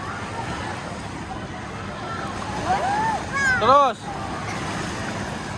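Wave pool at Waterbom Subang water park with steady rushing water and surf wash, close and continuous; a voice speaks briefly amid shrill, warbling cries.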